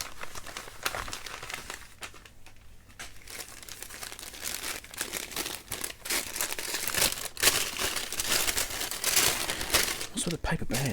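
Paper bags from a mailbag of electronic parts, including capacitors, crinkle and rustle continuously up close as they are handled and opened, with dense irregular crackling bursts for the whole stretch.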